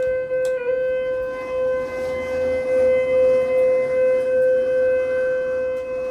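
A hotel elevator in motion gives off an unusual sustained tonal whine, a steady siren-like hum with faint overtones over a low mechanical rumble, continuous and fairly close.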